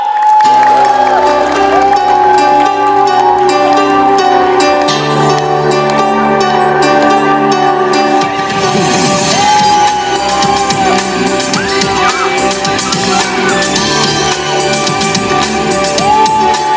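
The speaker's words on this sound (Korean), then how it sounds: "박수 주세요!" Festival audience at a community culture festival in Mapo, Seoul, applauding and cheering loudly and steadily throughout, with music and voices mixed in.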